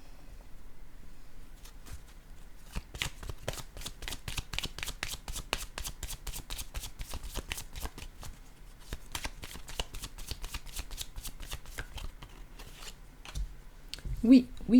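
Tarot cards being shuffled by hand, a rapid close run of crisp riffling flicks and slaps, steady and continuous, ending with a brief sound of a voice.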